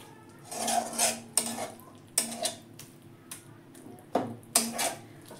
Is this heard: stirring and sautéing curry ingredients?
yes